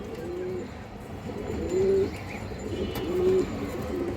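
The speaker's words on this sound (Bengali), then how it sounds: "অনেক সুন্দর কালারফুল একটা মাদি কবুতর" A colorful female pigeon of the Hurricane variety coos in short, repeated low phrases, several throaty calls spaced across a few seconds against a soft steady background.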